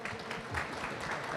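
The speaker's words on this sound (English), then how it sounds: "Can we have a round of applause for him?" Audience applause for the Head of Human Resources at Infosys after his introduction at a talk, a dense, steady wash of many hands clapping throughout, with faint voices mixed in.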